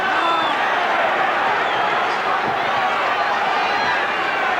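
Boxing match crowd in a Sacramento arena giving a continuous, fairly loud murmur and scattered noise, with no distinct cheering burst rising above it.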